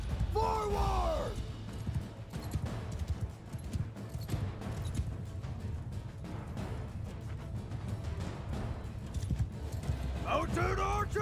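Horse archers' hooves galloping in the video game Bannerlord, a continuous rumbling clatter of many hooves with occasional clanks, under shouted commands and talk.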